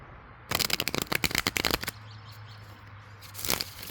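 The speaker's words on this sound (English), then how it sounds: "The tarot deck didn't shuffle all the way." A tarot card deck riffles in a quick, close flurry of papery flaps lasting over a second, then quiet, then one more short shuffle near the end.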